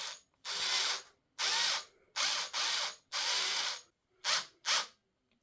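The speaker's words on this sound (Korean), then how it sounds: "이 상태에서 나사를 박으면 되는 거예요." A power screwdriver drives screws to mount a graphics card in a PC case, giving about eight close, loud whirring bursts of varying length separated by short pauses, with no talking.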